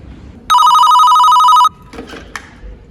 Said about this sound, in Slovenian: Telefon za vas.